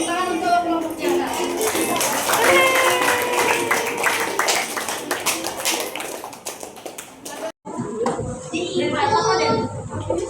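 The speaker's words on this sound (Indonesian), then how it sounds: "tepuk tangan untuk kelompok jaga" A sixth-grade class claps for a group, a steady patter of many small hands lasting several seconds, mixed with children's voices, then a brief pause before chatter resumes.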